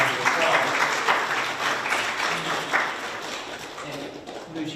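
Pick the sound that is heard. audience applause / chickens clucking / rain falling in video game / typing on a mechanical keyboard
audience applause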